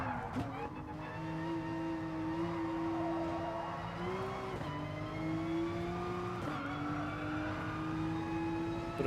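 A Porsche RSR race car in a video game laps Mount Panorama, its engine droning steadily with pitch rising and dropping sharply at gear shifts, loud and continuous with a brief tyre squeal.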